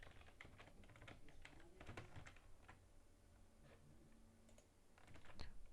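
Computer keyboard typing while writing code, an uneven run of light clicking keystrokes at moderate distance with pauses between bursts, continuing throughout without speech.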